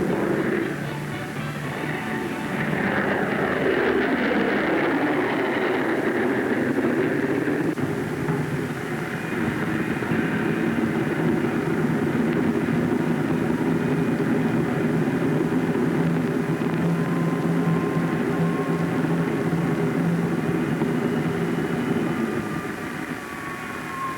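Bell P-59 Airacomet jet aircraft during an early test flight, with a loud, sustained engine roar and rushing drone that holds steady throughout.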